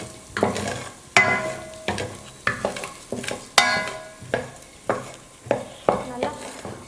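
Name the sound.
dry-roasting moong dal in a pan for sweet pongal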